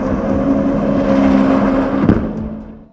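A Czinger 21C Blackbird V8 hypercar engine revs loud and close with a steady high-pitched drone, rising slightly before a sharp blip and then fading away.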